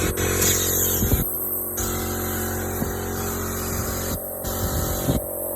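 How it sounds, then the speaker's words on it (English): Small swap-meet air compressor with a bad bearing running continuously nearby, a loud steady mechanical drone with brief hissing bursts of air on and off over it. "Turn off my little compressor."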